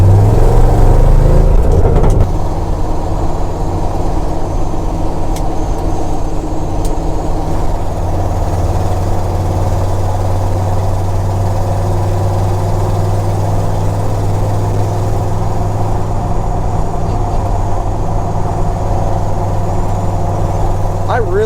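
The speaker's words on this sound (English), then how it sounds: "I do not remember this truck running this nice." A restored U.S. Forest Service Ford F250 Highboy truck engine runs steadily with a deep, even low rumble, loud and close, after a brief louder surge at the start.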